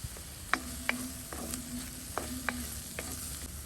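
Masala paste with ginger-garlic paste, tomato and cooked peas fries in a pan under a soft continuous sizzle, while a spoon scrapes and stirs in several distinct, evenly spaced strokes close by.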